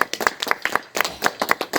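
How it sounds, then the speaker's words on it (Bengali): An audience claps loudly and steadily in quick, even beats at an anniversary celebration at a homestay in North Bengal, close and lively throughout. "জোরে হাততালি হোক, জোরে হাততালি।"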